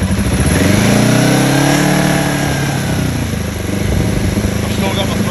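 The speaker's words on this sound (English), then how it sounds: "watch what happens as I apply revs on a warm engine." A Kawasaki ER5 twin-cylinder motorcycle engine, warm after a carburetor rebuild, revs loudly close up with a rough, uneven note that suggests misfiring under throttle.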